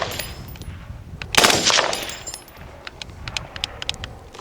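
A belt-fed FightLight MCR with a forced reset trigger fires a short, loud burst of rapid shots, followed by a string of quicker, lighter cracks at close range, with no talking.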